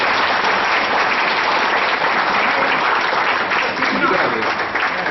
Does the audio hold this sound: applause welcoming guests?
yes